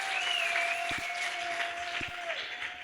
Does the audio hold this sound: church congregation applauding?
yes